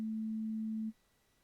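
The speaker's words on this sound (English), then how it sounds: "That's a sine wave." An analog oscillator on a modular synth plays a pure, steady sine tone for just under a second, then cuts off abruptly, leaving faint background hiss.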